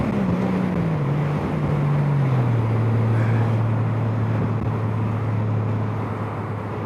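Engine of a Honda Gold Wing DCT motorcycle in economy mode, heard as a steady loud drone at highway speed while gears drop, with the pitch falling and then holding, plus strong wind noise.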